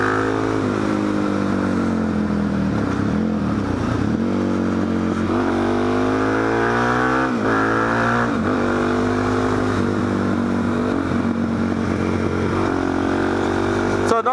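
A motorcycle with stage one cams and a 39mm flat-body carburetor rumbles loudly and close, revving and dropping in pitch through shifts while a rider talks over the engine.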